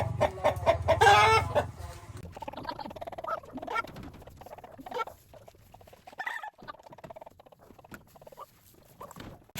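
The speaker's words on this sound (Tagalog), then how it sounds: "Tapos na kaming magpakain ng manok." Chickens cluck and squawk nearby, with a loud burst at first and then scattered softer clucks and rustling; no one speaks.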